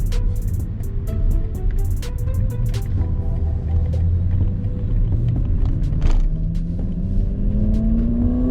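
A 2022 BMW i4 M50 electric car accelerating, a steady road rumble beneath a smoothly rising electric motor whine, with a few sharp clicks and ticks from inside the cabin.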